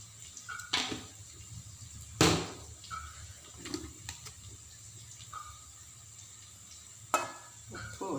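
Garlic softening in a hot pan as chili and a little turmeric go in, a low steady sizzle with scattered clinks and scrapes of a spoon against the pan, close and fairly quiet.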